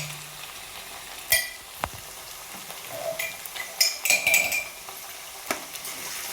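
Ginger paste being stirred into chicken curry frying in a pan: a quiet sizzle runs underneath while a utensil scrapes and clinks against the pot in scattered, irregular knocks.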